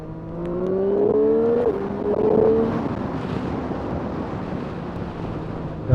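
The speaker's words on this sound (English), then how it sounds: "I'm riding the Speed Triple 765 RS along this road." A Triumph Street Triple 765 RS motorcycle ridden along a road, its engine note rising and falling through gear changes and then settling into a steady, close drone with wind rush and no talking.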